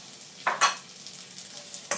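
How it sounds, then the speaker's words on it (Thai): Chopped shallots dropped into a hot pan fry with soft crackling sizzle and a couple of brief stirring scrapes, quiet and close, with no talking. "ใส่หอมหั่นลงไป"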